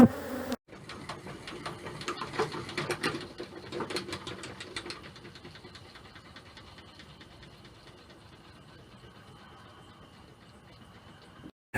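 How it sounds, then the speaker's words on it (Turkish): Hungry honey bees in a tunnel-type stacked hive, feeding on pollen-and-honey cake during a dearth, give off a dense, steady buzzing hum that is loud and close at first, then eases to a quieter continuous drone. "Ve o kadar aç ki arkadaşlar arı sesinden başka bir şey duymuyor olmanız lazım"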